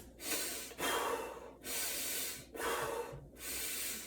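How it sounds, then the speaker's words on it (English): Deep belly breathing during a training demonstration: slow, loud breaths in through the nose and out through the mouth, four long airy cycles with short pauses between, close and alone without talk. "In through your nose, out through your mouth, but using your belly as this like inflatable balloon"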